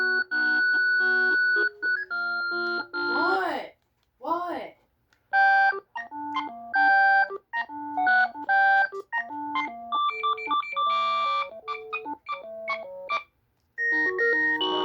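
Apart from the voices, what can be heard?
ringtone of GE 28214KE2-A telephone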